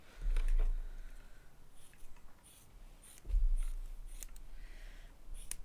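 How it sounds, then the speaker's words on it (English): Scissors cut up a charcoal makeup pen, giving faint, scattered snips and scraping clicks with brief low thumps, close and quiet. "So we can cut this one up with scissors this time."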